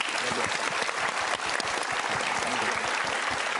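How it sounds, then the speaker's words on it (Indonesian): Steady, dense applause from an audience at an Indonesian motivational seminar, many hands clapping close and loud without a break, no voices standing out. "Berikan tepuk tangan untuk Mas."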